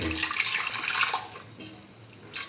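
Water pours steadily into a pressure cooker holding red chillies and lentil rice mixture, a loud close splashing gush that tapers off, with a short final splash.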